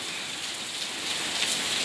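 Heavy rain pours down steadily during a storm in Wang Krachae, Trat province, a dense, continuous hiss of drops on surfaces that swells slightly toward the end, with no voices.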